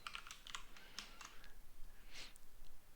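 Computer keyboard typing while entering code for a turtle-graphics drawing program: a run of quick, light key clicks in the first half, a pause, then a few more taps, fairly close and with no talking.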